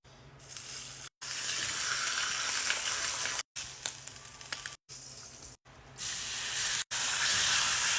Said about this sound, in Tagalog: So, luto na yung ham Marie, mag-assemble na tayo